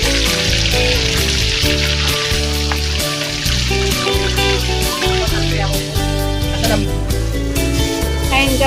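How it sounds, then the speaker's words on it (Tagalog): Food frying in hot oil in a home kitchen, a continuous crackling sizzle running beneath loud background music, with people talking now and then. "Yan po, nagpiprito na."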